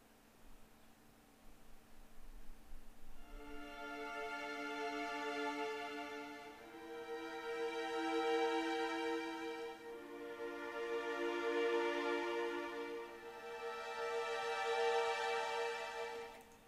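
Sustained legato violin section from the 8Dio Adagio library played with a stronger-attack key switch, rich harmonic chords swelling and fading in three long phrases, clear and alone without talk.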